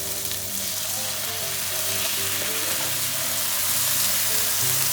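Soy sauce poured over garlic and konjac stir-frying in a hot pan, a loud, dense, continuous sizzle that holds steady with a faint low hum underneath and no one talking.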